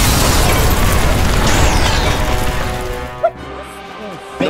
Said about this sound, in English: The Daleks are firing at us!